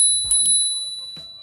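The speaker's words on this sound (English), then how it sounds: "Next to that is the bell" A handlebar bell on a G-Cycle Pro electric scooter rings with a couple of quick bright strikes, leaving a clear sustained metallic tone that hangs on as it slowly fades.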